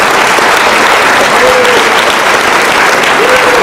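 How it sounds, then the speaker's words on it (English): Sustained applause fills a hall at a high school fall sports awards night, steady and dense from start to finish, with a faint voice rising briefly beneath the clapping. "one more round of applause"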